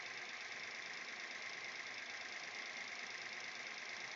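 A Datsun 240Z idles on a dying battery with its engine running quietly and steadily, a faint even hum that continues without change.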